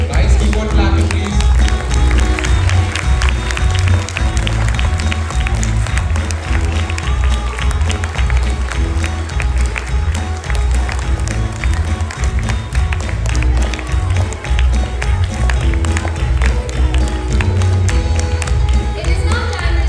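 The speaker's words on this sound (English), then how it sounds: "Guys, keep on clapping, please." A school audience at a farewell program for a teacher claps continuously, a dense, loud patter of many hands that carries on without pause, with voices mixed in.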